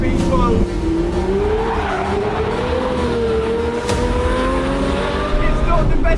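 A Lamborghini Murcielago V12 drives along through hills, its engine note loud and steady with a rising and falling pitch. Occasional tire noise rises near the end.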